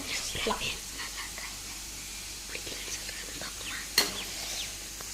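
Potatoes frying in a pan give off a soft, steady sizzling hiss with faint scattered clinks, and one sharp tap near the end.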